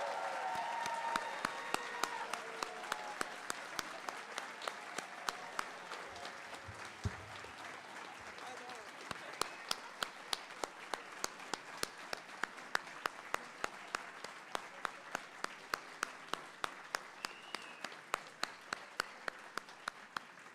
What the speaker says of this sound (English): Let's give this amazing group of students a big round of applause.